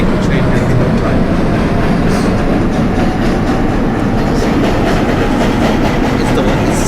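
A subway train runs on the 4 Line between Utica Avenue and Woodlawn in the OpenBVE train simulator game. It makes a loud, continuous rumble with rhythmic clickety-clack over the rails and a faint high whine, with no pause throughout.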